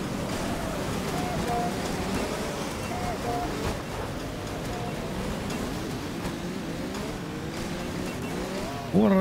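Cars race and ram each other in the video game Concept Destruction, engines whining and rising in pitch with tire squeals and a sudden loud impact at the end, while someone talks over the action.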